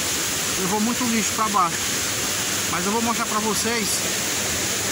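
Water pours steadily over a waterfall swollen by a recent flood at São Daniel, a broad continuous rush that fills the whole clip while someone talks over it.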